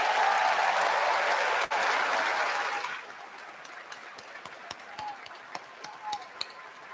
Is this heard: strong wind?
no